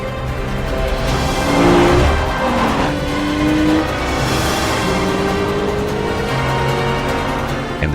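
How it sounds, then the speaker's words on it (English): Engines from a nighttime car chase through the streets of Rome in a James Bond film, a steady layered roar with rising whines and a louder surge near the start, set in a dense film soundtrack. "The car chase through Rome in the dark, that's just beautiful"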